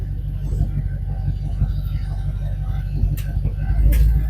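A 1953 Chevy with an LS swap engine rumbles at low speed as it backs up, a steady deep engine drone close by that swells slightly toward the end, with people talking over it.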